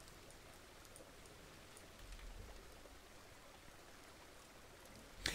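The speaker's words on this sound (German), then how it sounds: "Jetzt hört das in dem Spiel nicht mehr auf zu regnen." Steady rain falling across a farm in the video game Farmer's Dynasty, a constant even hiss with soft patter on surfaces, no voices, and a brief louder knock right at the end.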